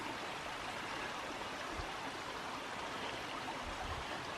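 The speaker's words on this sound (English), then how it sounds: "A little cascading waterfall." Small cascading waterfall on a forest creek in Bankhead National Forest, a steady, soft rush of splashing water that stays even and unbroken throughout, fairly faint and alone with no voices.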